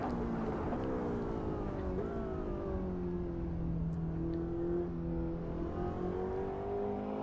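A Ferrari 488 GTB screams through an on-board lap at Laguna Seca, its engine note sweeping steadily and then dropping in pitch as it brakes, loud and close throughout.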